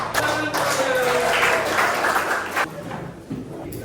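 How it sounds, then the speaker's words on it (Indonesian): A group of students claps hands together in a classroom, producing a burst of mixed, busy clapping that tapers off, with some voices audible beneath it. "Tepuk tangan semua."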